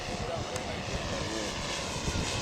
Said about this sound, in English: Rolly's coming in for his landing